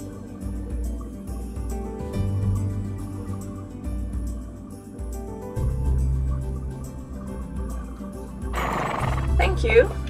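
In the video game Barbie Horse Adventures, a horse neighs on a snowy mountain trail; a steady low game drone runs throughout, and a brighter whinny rises near the end.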